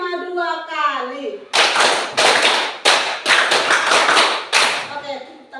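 Several rounds of sharp, loud hand clapping by a group of children in a classroom, bursts of rapid claps separated by brief pauses, following a short stretch of chanting voices.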